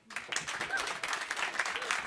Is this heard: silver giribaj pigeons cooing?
no